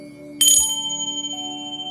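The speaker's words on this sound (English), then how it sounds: "let's wait and listen for that bell." A single bell strike opens a breathing exercise for kids, giving a clear, bright ring that sustains and slowly fades over a steady low hum, with no talk.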